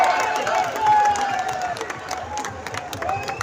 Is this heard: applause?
yes